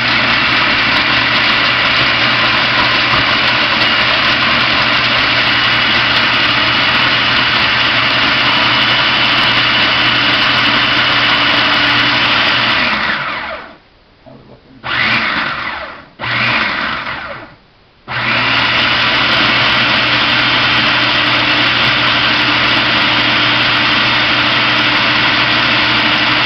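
A blender chops ghost peppers in a steady, loud whir that runs continuously, cuts out briefly in a few short stops and bursts, then resumes at full roar to the end.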